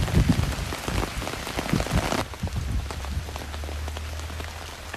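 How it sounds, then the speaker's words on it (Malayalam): Heavy rain pours down in Thiruvananthapuram during a monsoon rain alert, a dense, loud, steady hiss of drops on surfaces that shifts slightly partway through, with no voices. "തിരുവനന്തപുരം ജില്ലയിൽ ശക്തമായ മഴയാണ് അനുഭവപ്പെടുന്നത്."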